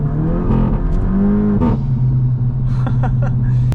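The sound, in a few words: tuned VW Golf exhaust pops and crackles while revving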